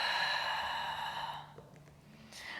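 A slow, soft exhale during a yoga flow, a breathy wash that fades gradually over a couple of seconds, close and quiet, with no talking.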